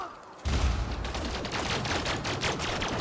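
Rapid pistol fire from an on-foot combat zone in Elite Dangerous, with a burst of close, sharp shots in quick succession over a background of battle noise.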